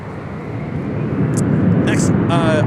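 A departing airliner at LAX gives a steady, loud roar that builds slightly, with brief radio chatter and a voice over the top.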